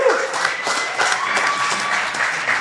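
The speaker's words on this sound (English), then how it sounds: "Can we get a round of applause for these guys?" A live audience applauds panelists at a fashion showcase with a brief burst of dense clapping and crowd noise that stays even and fairly loud throughout.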